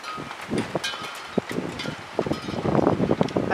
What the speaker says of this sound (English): I've got a lot of wind today